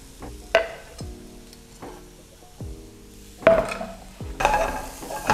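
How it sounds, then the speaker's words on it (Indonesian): Onions sauté in a pan for chicken meatball bread filling while a spatula repeatedly strikes and scrapes the pan, giving loud ringing metallic knocks about once a second over a soft sizzle. "kita tumis dulu bawang bombaynya sampai dia harum"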